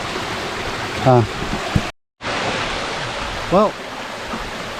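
A small seasonal waterfall in a forest gorge pours into a stream, a steady rushing hiss that goes on without a break, with brief bits of talk over it.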